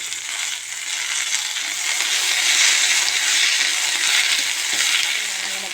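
Mint leaves and green chillies frying in a pan for chutney, a steady loud sizzle with light stirring scrapes throughout.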